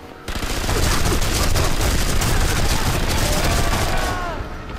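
Gunfire from the video game Sniper Elite V2: a dense, sustained volley of rapid shots lasting several seconds, loud and continuous throughout before easing slightly at the end.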